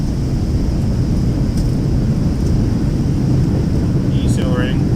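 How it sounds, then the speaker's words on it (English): Loud, steady roar of thrust reversers on a Boeing 757 airliner landing in X-Plane 11, a broad rushing engine noise throughout with a brief chime near the end. "Reversers are out."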